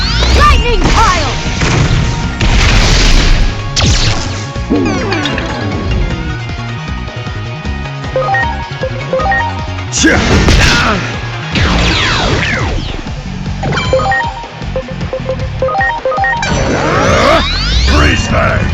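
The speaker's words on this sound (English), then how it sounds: "Here goes! Lightning pile!" Lightning Pile attack in Digimon Story: Time Stranger, a video game battle move: repeated loud crashing impacts and sweeping whooshes in several waves, with booming hits and electronic crackle over battle music throughout.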